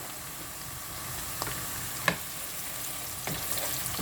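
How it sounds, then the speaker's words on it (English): Garlic sizzles in a pan, a soft steady frying hiss with a few light clicks and stirring taps, faint and close with no talk. "I'm going to add my garlic."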